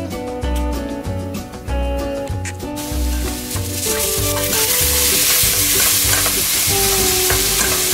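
Root vegetables frying in oil in a pot for a traditional leek soup, a steady close sizzle with rhythmic stirring scrapes and clinks that grow into a continuous loud frying hiss.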